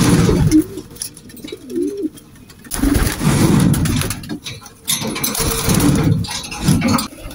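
Pigeons coo inside a dusty loft, soft rolling calls repeating close by with shuffling and rustling between them.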